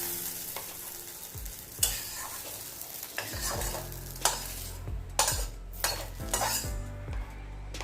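Sliced okra and potatoes fry together in a pan, with a continuous sizzle broken by repeated metal spatula scrapes and clinks against the pan.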